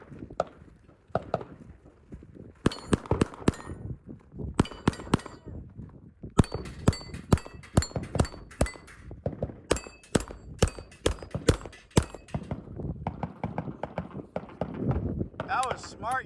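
At a shooting match, a string of sharp rifle shots strikes a steel spinner target, each crack followed by a bright metallic ring, in quick irregular bursts with voices between them.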